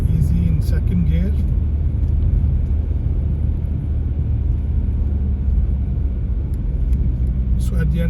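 A car rolls slowly along a test route in second gear, its low engine rumble steady and close from inside the cabin, with an instructor's voice talking over it.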